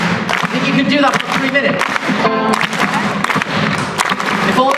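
An audience claps in rhythm along with live pop music at a concert at The Barbican, York. Steady, loud hand claps run under the music and a voice.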